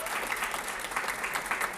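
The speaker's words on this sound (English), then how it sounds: "give a round of applause to our graduates" Steady applause from a crowd at a graduation ceremony, continuous clapping filling the whole moment without a break.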